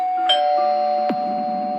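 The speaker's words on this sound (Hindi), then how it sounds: "इससे पहले दरवाजे की घंटी बजने लगी।" A household doorbell chimes in a home, two clear ringing tones a moment apart, each with a sustained ring that lingers over a faint background hum.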